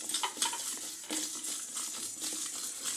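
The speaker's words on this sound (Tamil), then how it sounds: "இதை இப்போ நம்ம கடாயை வச்சு நம்ம வறுத்து எடுத்துக்கலாம்." Cumin, pepper and coriander seeds dry-roast in a kadai, giving close scraping and stirring scratches with light rattles of seeds against the metal.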